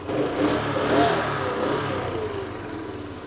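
A motorcycle engine runs at a steady idle just after a service, close by with a smooth, even hum and a slight swell near the start, with no voices.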